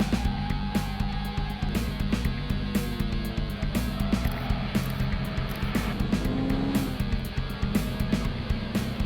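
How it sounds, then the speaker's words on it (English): A Lotus sports car on a race track pulls away with a steady, loud engine drone and shifting revving tones, heard up close throughout with no talking. "Blip the throttle, slowly off the clutch, and then round."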